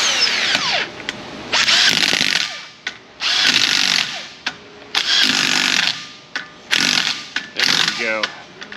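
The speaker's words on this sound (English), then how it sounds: "Oh, brushed motor." A brushed-motor power tool whirs in repeated loud, close bursts with short pauses between them during hub and bearing work on a 2002–2007 Silverado 3500 6.6 full-floating axle.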